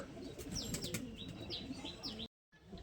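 Two pigeons, a Giribaz male and a Madas female, coo and chirp steadily near the listener, with other birds calling in the background and a short dropout toward the end.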